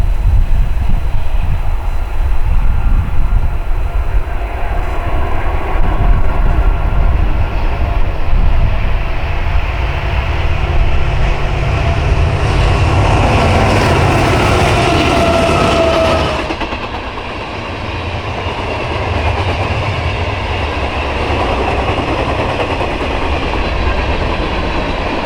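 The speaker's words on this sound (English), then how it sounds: "The next train was a random Norfolk Southern manifest with an ace leading and an AC-44 trailing" A Norfolk Southern manifest freight train passes with an AC44 locomotive trailing, in snow. It makes a loud, continuous rumble with clickety-clack of cars that holds for most of the time, then eases slightly near the end.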